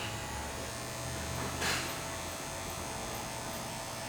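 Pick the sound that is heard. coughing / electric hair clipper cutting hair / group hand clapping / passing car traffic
electric hair clipper cutting hair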